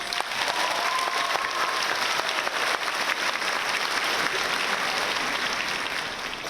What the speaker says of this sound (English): can I hear a huge round of applause for the graduates?